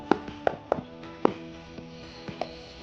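Knocks on a durian fruit to judge its ripeness, five or six short, hollow taps at uneven intervals, close and fairly quiet over a faint hum.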